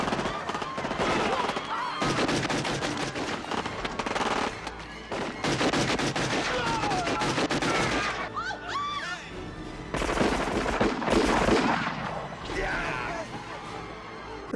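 Gunfire from a film scene in Total Recall (1990) comes in dense, rapid bursts that hammer on for several seconds, pause briefly and then resume, mixed with a loud action soundtrack.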